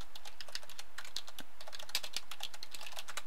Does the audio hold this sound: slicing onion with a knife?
no